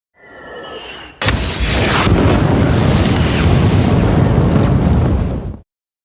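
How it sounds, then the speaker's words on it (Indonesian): Massive bomb blasts from a WWII air raid on a British arms factory: a low rumble builds, then a sudden loud explosion erupts into a sustained roaring, crackling barrage that fills several seconds before cutting off. "mereka melancarkan pengeboman besar-besaran, menghantam pabrik senjata Inggris"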